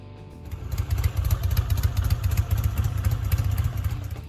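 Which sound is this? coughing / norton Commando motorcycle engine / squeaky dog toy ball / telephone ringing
norton Commando motorcycle engine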